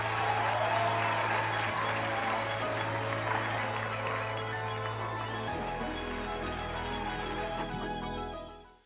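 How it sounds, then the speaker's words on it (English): Audience applause forms a dense, moderately loud patter over a sustained musical tone. The clapping thins out in the latter half and fades away at the very end. "Please give yourself a round of applause."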